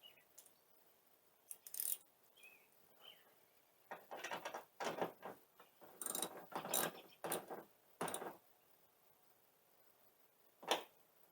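A ratchet tightening a 10 mm nut back on during an install of sequential LED rear turn indicators on a car, a quiet run of close, rapid clicking bursts with short pauses and one last click.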